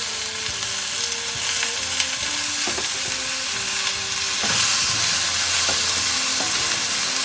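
Tomatoes go into a pan of caramelized onions frying for a South Indian onion tomato chutney, giving a steady, close sizzle and hiss throughout, with faint stirring scrapes and a background hum.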